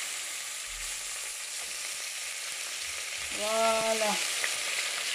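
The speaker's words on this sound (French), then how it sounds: "Je vais mettre un petit peu d'huile. Et je vais faire revenir la pintade." Guinea fowl pieces browning in a little hot oil in a pan, a steady close sizzle and crackle throughout, with a brief voice joining near the middle.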